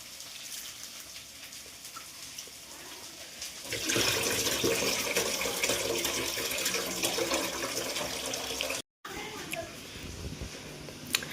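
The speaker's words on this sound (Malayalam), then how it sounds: "അരി നന്നായിട്ട് കഴുകി" Tap water runs into a vessel while rice is washed for fried rice. A softer trickle becomes a louder, steady gush partway through, with a brief cut near the end, and a voice speaks over it.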